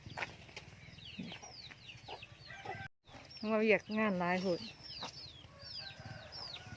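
Free-ranging farm chickens cluck and squawk around feeding time, with one louder rising call standing out midway among scattered nearby clucks, while someone talks intermittently.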